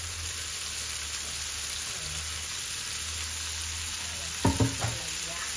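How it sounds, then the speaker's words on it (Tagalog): Bitter gourd sautéing with tomato in a pan gives a steady, close sizzle throughout, with a brief clatter of stirring near the end and no talk. "Ilalagay ko na itong ampalaya guys."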